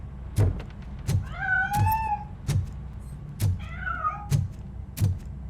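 A cat in Robocop: Rogue City meows twice, long rising-and-falling cries, over a steady run of heavy, evenly spaced thuds like footsteps.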